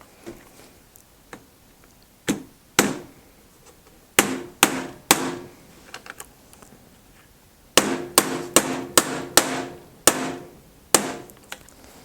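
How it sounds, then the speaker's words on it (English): Sharp hammer strikes tap a PVC knife sheath together, landing as single blows and quick bursts of several hits with quiet gaps between, close and fairly loud. "So gently hammer it down because they are quite"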